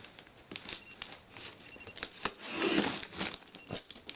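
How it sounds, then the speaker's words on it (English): Blade slicing through packaging on a Corsair K70 gaming keyboard box, faint crinkling and scraping with soft irregular ticks and a slightly louder tearing stretch near the end, close and quiet. "Now I'll just cut straight down the middle."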